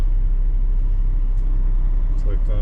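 Low, steady engine rumble of a semi truck creeping toward a loading dock at under five miles an hour, constant and close throughout with faint high clicks near the end.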